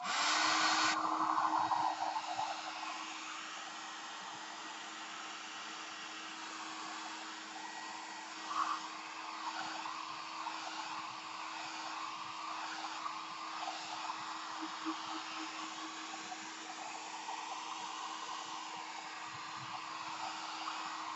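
A hair dryer blows on a file folder with a constant whirring hum, a little louder for the first couple of seconds and then even and moderate throughout, with no voices.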